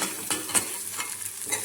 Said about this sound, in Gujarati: જો સરસ એવો આપણો કોબીનો સંભારો વઘારાઈ ગયો છે